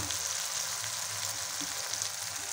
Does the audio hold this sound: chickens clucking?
no